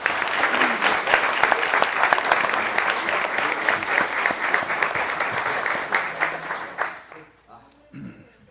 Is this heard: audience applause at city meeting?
yes